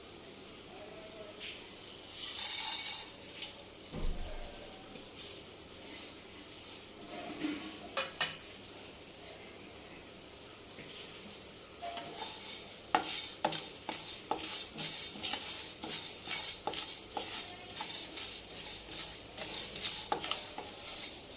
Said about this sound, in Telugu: ఇది ఉడికేలోపు ఇటు మసాలా వేయించుకుందాం.